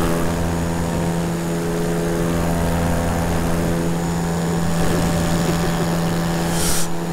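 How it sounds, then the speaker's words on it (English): An electric paramotor in flight gives a steady, loud, tonal propeller drone with a constant pitch, joined by continuous wind rush. A brief swell of noise comes near the end. "I'm leaving home base on the second flight ever of the electric paramotor"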